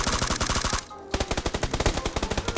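A close, loud automatic weapon sprays rapid, steady bursts in PUBG Lite, with a brief pause before the rattling fire resumes at the same fast rhythm.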